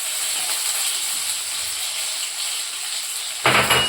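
Cut onion slipping into hot oil in a home kitchen: a steady hiss of heated oil runs throughout, then a louder, fuller sizzle bursts up near the end as the onion lands.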